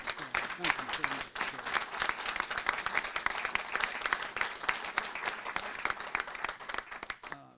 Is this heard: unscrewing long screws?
no